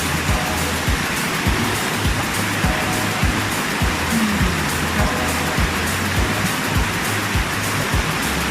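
A steady, loud roar of falling water fills the scene, constant and broadband, with no voices.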